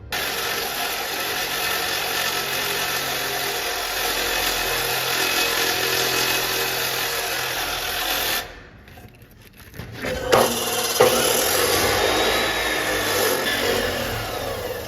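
A saw, likely a chainsaw, cuts through wood with a loud, steady engine roar that drops away briefly near the end and then resumes with rougher cutting noise.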